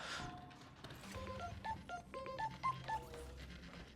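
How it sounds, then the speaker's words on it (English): Electronic tone beeps from an incoming phone call in the building game Scrap Mechanic, a quick run of short pitched pips repeating over a couple of seconds against a busy game background. "Oh, I'm getting a phone call."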